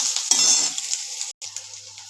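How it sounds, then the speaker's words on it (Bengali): Onions frying in a pan for khichuri, a steady close sizzle with a burst of stirring and scraping near the start, a brief dropout partway through, then continued gentle frying. "পেঁয়াজটা ভেজে নিই, একটু লাল লাল হয়ে গেলেই খিচুড়িটার মধ্যে দিয়ে দেবো।"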